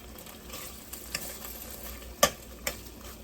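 Bologna slices frying in a pan give a steady soft sizzle close by, broken by a few sharp scraping clicks of a utensil against the pan.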